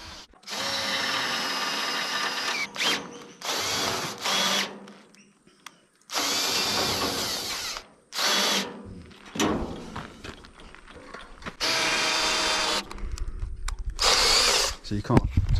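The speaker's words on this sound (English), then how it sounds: "Andy is using all his body weight and strength to drill the holes." An old, tired power drill boring holes in a rusty metal farm trailer, heard in several long whining bursts of a few seconds each with short pauses, close and loud, and a little clatter between them.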